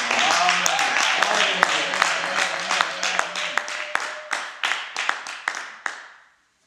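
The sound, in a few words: congregation clapping for the glory of God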